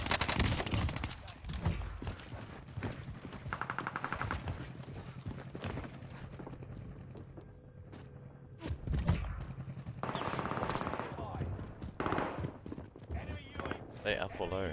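Bursts of MP40 submachine gunfire from an online shooter game crack out at intervals through the clip, with a player's voice talking over much of it.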